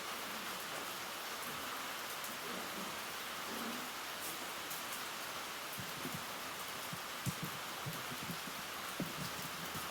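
Steady rain falls outside a community meeting room in Vermont's Mad River Valley, a soft continuous hiss with scattered faint drips and light knocks, and no voices.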